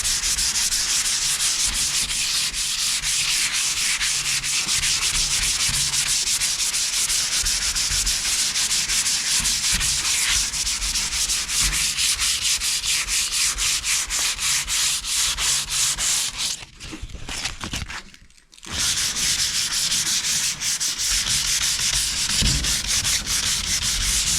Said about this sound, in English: I've already started sanding on a little bit.